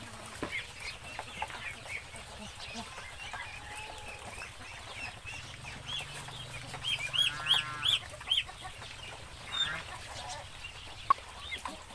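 Young ducklings calling from a crowded pen, a steady bed of soft peeping and chirping with a few brighter, louder calls standing out midway, heard nearby with no talking.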